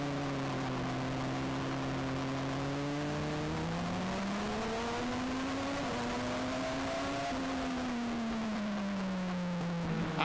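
Race cars running side by side on the Charlotte track in a semi-pro series, engines droning steadily and rising and falling in pitch as they accelerate, loud and continuous with no talk.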